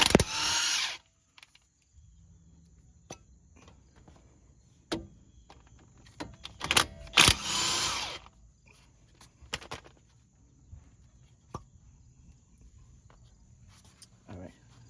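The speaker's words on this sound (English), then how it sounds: "you need to remove the 17mm bolt right here and this one down here" Ratchet working loose 17mm brake caliper bolts on a Lincoln MKX: short bursts of rapid clicking at the start and around the middle, separated by quieter clanks and handling noises, close and fairly faint.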